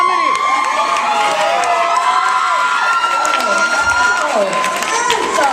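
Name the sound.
audience applause and cheering at a stand-up comedy show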